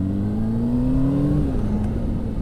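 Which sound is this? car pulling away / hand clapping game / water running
car pulling away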